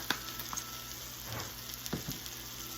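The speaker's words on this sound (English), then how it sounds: "and let this sear, and then I'm going to cut it up in just a minute" Chicken seasoned with garlic powder searing in a hot pan gives a soft, steady sizzle with a few faint ticks and pops, fairly quiet throughout.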